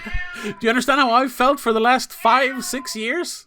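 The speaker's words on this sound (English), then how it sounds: "I think even my cat is feeling it now." A house cat meows repeatedly in a drawn-out, wavering, almost word-like way, loud and near, forming a string of long cries across the whole moment with no other talk over it.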